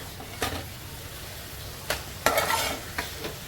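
Fish pieces stirred into masala in a pan: a quiet sizzle broken by a few distinct spatula scrapes and knocks, with a busier burst of stirring near the end.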